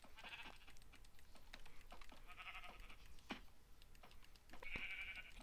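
A gray sheep in Minecraft bleats three times, with short, nasal, fairly quiet cries spaced about two seconds apart, over the soft clatter of keyboard typing.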